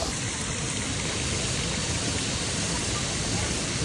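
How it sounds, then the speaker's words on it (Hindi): A waterfall beside a villa pool in Bali pours with a constant broadband rush, dense and unvarying, filling the whole stretch at a fairly loud level. "और कुछ ऐसा नज़ारा है, उधर वाटरफॉल है, पानी दिख रहा होगा आपको।"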